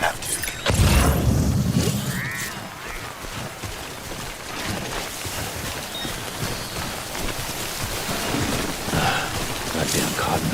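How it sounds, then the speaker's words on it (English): Rain, called timefall, falls in the video game Death Stranding as a dense, steady hiss after a sudden loud thump, with a low rumble and speech-like sounds under the constant downpour. "Don't stay out in the rain any longer than you have to."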